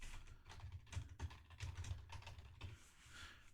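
Rapid, irregular clicks of fingers typing on a computer keyboard, close and fairly quiet, coming in uneven bursts with no voices.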